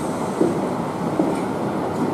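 A freight train slows as it leaves Kufstein station, heading toward Germany, with a steady, loud rolling rumble of wagons and faint rhythmic wheel clacks throughout.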